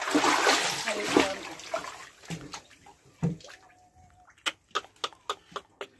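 Lots of water splashing and pouring inside a flooded house, a loud broadband rush at first that gives way to scattered splashes and a run of sharp, evenly spaced drips or knocks.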